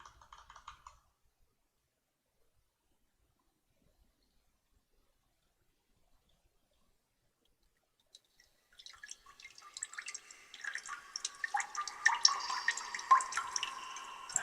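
Cave water dripping ambience from an Unreal Engine game sound asset: near-silence for about eight seconds, then a dense, crisp scatter of small drips and splashes that grows busier and louder toward the end.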